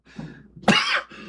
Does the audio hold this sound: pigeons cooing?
no